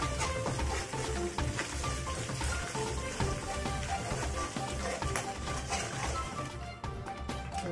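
Noodles with hotpot base and a spoonful of chili powder stir-fry in a hot wok, a steady loud sizzle with scraping and clattering of the spatula throughout, no talk.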